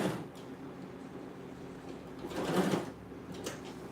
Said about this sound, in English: I'm stitching it one inch away from the top.